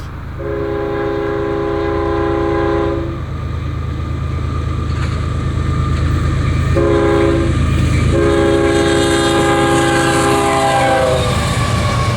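A freight train led by Union Pacific 5535 and Kansas City Southern 4831 locomotives rumbles steadily past, its horn blaring loud, long blasts that pause briefly and then sound again.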